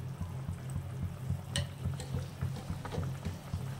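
A white mushroom dish seasoned with sugar and pepper simmers in a pan, soft steady bubbling and faint sizzle with a few light clinks, quiet and close.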